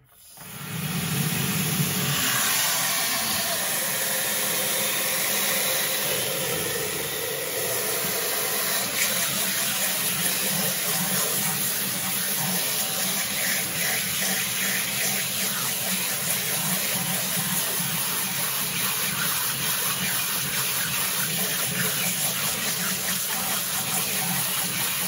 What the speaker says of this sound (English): I make sure that my sprayer is on the most powerful setting.